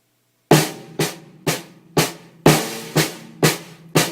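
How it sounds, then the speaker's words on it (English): Eight evenly spaced drum strokes on a snare-type drum, played as a paradiddle sticking pattern displaced to start on a different note, each hit sharp and ringing briefly, loud and close with no talking. "we're basically starting the paradiddle pattern on a different note"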